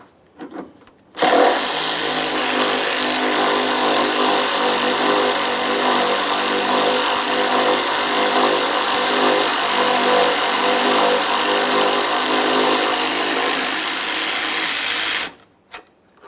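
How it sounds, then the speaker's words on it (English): Power tool whirring steadily while backing out a 10mm radiator mounting bolt on a 1994-2001 Dodge Ram 1500 with a 5.2L V8; one continuous loud run of about fourteen seconds with sharp start and stop. "We can remove that mounting bolt."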